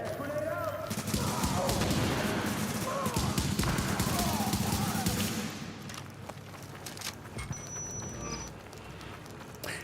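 MDR rifle gunfire in a video game, rapid sustained bursts for several seconds, fairly loud and close, then sparse shots fade out while someone talks.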